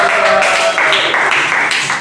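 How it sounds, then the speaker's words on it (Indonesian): Brief burst of applause and clapping from students in a classroom during a teaching session, close and fairly loud, lasting about two seconds with no talk over it. "tepuk tangan untuk"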